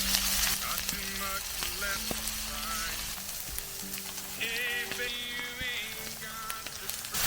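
Heavily seasoned steaks sizzle steadily in vegetable oil in a cast iron pan at a winter campsite in freezing rain, a continuous crackling hiss with faint tonal background sounds running through it.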